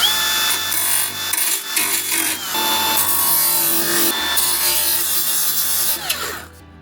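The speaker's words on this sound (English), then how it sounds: "I'm gonna take a belt sander and just kind of clean it up." Belt sander grinding slag off the rough-cut edge of a steel patch panel for an R32 GTR rocker, a loud continuous abrasive whine close up that shifts in pitch as pressure changes, then winds down at the end.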